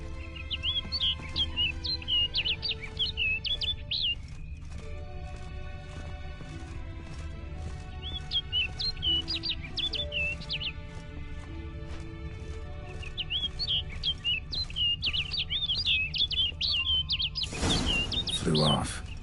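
Bright, chirpy bird calls from The Witcher 3: Blood and Wine sound in repeated bursts over steady game music and ambience, with a louder broadband rush near the end.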